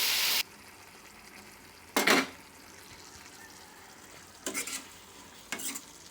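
Broad beans and tomato curry cooking in a pan: short bursts of sizzling and stirring, one at the start and then three more spaced a few seconds apart, over quiet background.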